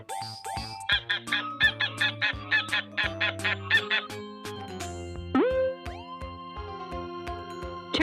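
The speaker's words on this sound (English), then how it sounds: "Goose." A farm goose honks in a rapid string of nasal calls, loud and near, set against a backing music track with no speech.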